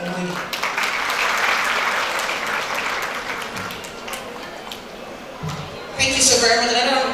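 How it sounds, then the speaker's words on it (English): Sustained crowd applause at a women's forum event in Katsina, steady and full for about six seconds, then thinning as a voice begins speaking over the last stretch. "Another round of applause for her, please."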